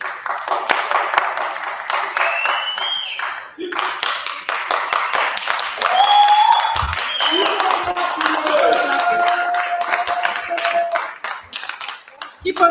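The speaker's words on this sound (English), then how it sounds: "Keep on clapping, yeah?" Ongoing audience clapping at a festival closing session, crisp individual hand claps with an irregular rhythm continuing through the whole stretch, a brief louder swell in the middle and some faint voices and whistles underneath.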